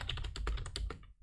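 Rapid keystrokes clatter on a computer keyboard, about ten quick close presses in a steady run, with no one talking.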